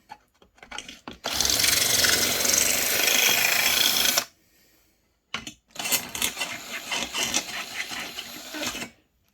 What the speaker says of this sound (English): The very sharp drill bit.